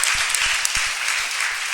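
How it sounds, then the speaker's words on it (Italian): An audience at a conference event gives warm, steady applause, a dense continuous patter of clapping hands at moderate distance with no talking. "mi sento oggi di chiedervi un altro applauso"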